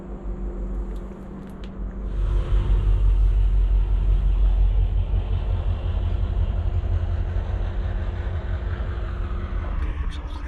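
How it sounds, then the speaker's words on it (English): Heavy locomotive rumble from a train crossing Spain, a low steady engine drone that swells after two seconds and holds loud and close, with faint voices underneath. "Alright, so the locomotive decouples."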